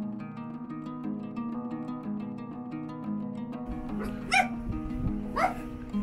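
A few short dog barks ring out near the end by the town walls of Pienza, Tuscany, over a steady bed of droning music; two distinct bursts stand out.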